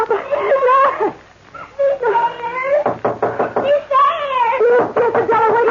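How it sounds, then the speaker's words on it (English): Knocking on a door in an old radio drama adaptation of Jane Eyre: two sharp clusters of raps land between dramatic, emotional voices speaking over the scene. "Yes, Adela, wait till I open the door."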